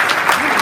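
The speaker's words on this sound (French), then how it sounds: "Que l'on applaudit chaleureusement" Applause from the audience at a memorial ceremony, a short loud burst of dense clapping heard close and without any talking.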